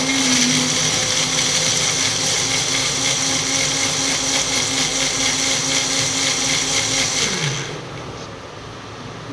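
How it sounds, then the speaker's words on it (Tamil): A blender runs loud and steady, grinding fresh leaves into a hair-care paste, then winds down and cuts off near the end, leaving a quieter hum. "இப்போது இதை நல்லா பிளெண்ட் பண்ணி எடுத்துப்போம்"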